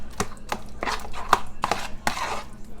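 An avocado and banana hair mask mixture being mixed together in a bowl, giving a series of irregular soft wet thuds and scrapes, close and fairly loud, with no talking.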